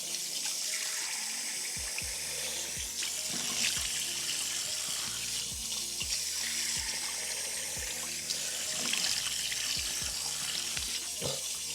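Warm water runs steadily from a bathroom tap while someone rinses their face, with repeated soft splashes as cupped hands lift water over the skin in an uneven rhythm.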